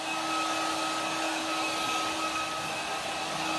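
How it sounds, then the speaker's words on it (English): A hair dryer blows steadily at close range, a constant whooshing hum with a faint whine, no voices. "Put it through and dry my hair."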